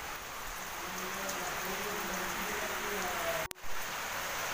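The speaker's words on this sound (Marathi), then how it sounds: "पाऊस की नाही जोरदार चालू आहे" Heavy monsoon rain falls steadily in the Konkan countryside, a constant hiss near a kitchen. One sharp knock or clatter briefly breaks through late on.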